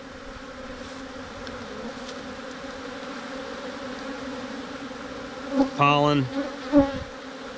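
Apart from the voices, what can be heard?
aggressive bees buzzing around a beehive being torn down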